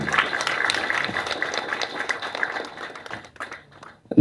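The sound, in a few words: audience applause for the film team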